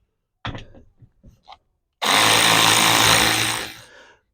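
A power tool, likely a drill or impact driver with a 10 mm socket, runs loud and steady for about two seconds, freeing underbody bolts on a Toyota RAV4 Prime. Several short knocks and clatters come first, then the whirring fades out.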